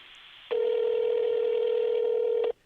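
A telephone rings through a speakerphone, heard as a single steady electronic ringback tone lasting about two seconds before it cuts off, loud and clear against a quiet background.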